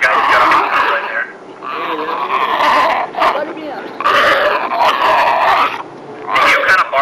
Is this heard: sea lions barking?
yes